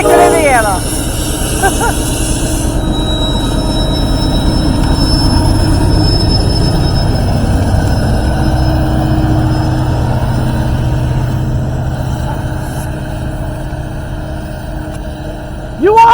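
An NS freight train rolls past on a snowy track, a loud, sustained rumble of wheels and cars with a high squeal early on, and a voice is heard near the end.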